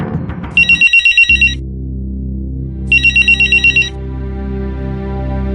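A telephone rings in two separate bursts of rapid electronic trills, each about a second long and separated by a pause, over a low sustained musical drone with no talking.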